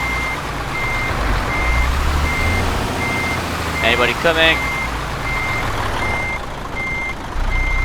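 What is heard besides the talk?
lorry reversing beeps in Euro Truck Simulator 2 video game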